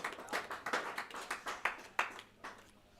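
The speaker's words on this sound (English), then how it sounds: "the crowd are cheering him on there" Scattered hand clapping from a small crowd at a bowls senior singles final, a dozen or so uneven claps fading out over a few seconds, no cheering voices.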